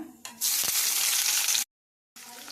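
Onion, mustard seeds and cumin sizzle hard in hot oil, a loud, steady, close frying hiss that cuts out abruptly and then returns.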